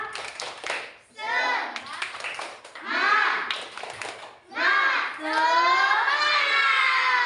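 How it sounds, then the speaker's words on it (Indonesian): Children in a classroom clap a rhythmic spirit cheer in bursts, lively group clapping mixed with shouting voices, repeated in several short rounds close by. "Coba sekarang tepuk semangat."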